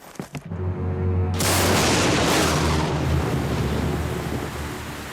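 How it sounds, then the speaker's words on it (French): Cartoon thunderstorm: a sharp crack then a loud rolling thunder boom that merges into heavy steady rain, slowly fading over several seconds. "On va attendre que la pluie cesse."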